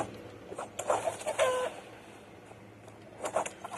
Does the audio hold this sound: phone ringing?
no